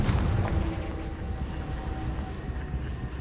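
A Confringo blast spell explodes in the game Hogwarts Legacy, a dull booming burst at the start that decays into a steady rumbling, crackling wash, with no voices.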